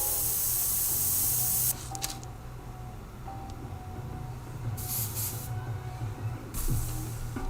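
An airbrush sprays paint onto a metal tumbler, giving a loud, steady hiss that cuts off abruptly, then returns in short, quieter bursts amid faint background hum.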